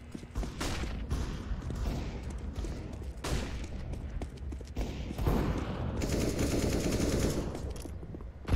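Pistol fire in the first-person shooter CS:GO comes as a series of sharp shots at irregular intervals, loud and close against a dense background of game noise, with no talk.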